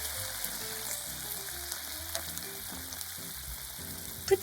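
Beef shigureni cooking in a pan gives a soft, steady sizzle under faint background tones, fairly quiet throughout, with a brief louder bump right at the end.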